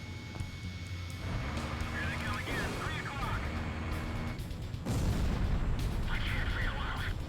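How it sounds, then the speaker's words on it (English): A missile launches during jet dogfighting in the video game Ace Combat Zero, a booming whoosh and blasts over a steady engine roar, with a voice talking over the action. "Missile launched."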